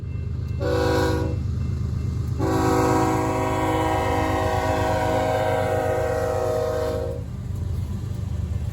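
A freight train horn sounds a short blast, then a long sustained one, over the steady rumble and rhythmic clatter of rail cars rolling past nearby in Willmar, Minnesota.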